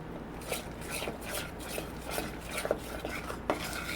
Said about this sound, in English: Now you're just going to stir it all together.